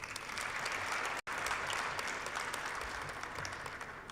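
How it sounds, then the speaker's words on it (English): Audience applause at a summit closing ceremony in Marrakech, dense sustained clapping from a large crowd with a brief dropout near the start, fairly distant and even. "a big applause for my team and my Secretary General, Musharraf."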